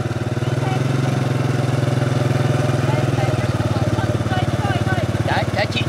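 A motorbike taxi engine runs steadily at close range, a continuous low, even thrum throughout with slight rises in pitch, while a person speaks over it.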